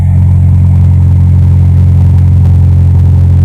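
A Honda Civic idles in cold weather with its exhaust running, a loud, steady, close-up low engine drone and rumble that holds constant throughout with no voices.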